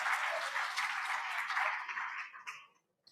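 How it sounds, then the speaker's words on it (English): Meeting audience clapping for themselves after an exercise, a fairly full round of applause that thins out and fades to silence with a few last claps. "just give yourself some applause for doing that for me"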